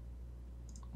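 Two crisp computer mouse clicks sound close together, faint and quick over a low steady hum, while modelling figure parts in ZBrush.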